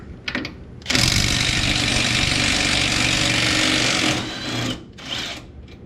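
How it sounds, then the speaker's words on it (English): Wrench removing a 13/16 lower strut bolt on a 2000-2007 Toyota Tundra during a strut lift install, a loud, close, rattling whir lasting about three seconds, then brief softer tool noises. "Go ahead and take our lower strut bolt off"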